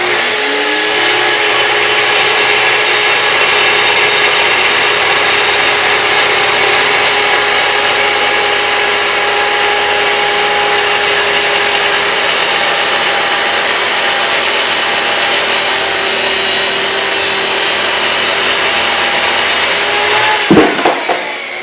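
A saw, its depth set to go through two stacked maple boards, cuts them to final length with a loud, steady whine for about twenty seconds before spinning down at the end.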